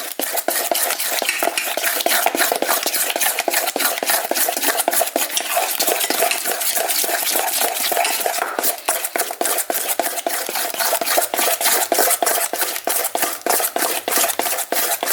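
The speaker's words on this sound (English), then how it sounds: "Stir vigorously to get the lumps out." A spoon briskly stirring flour into sourdough starter in a glass jar, a dense, fast, rhythmic clatter and scrape close up, steady for the whole stretch with no voices.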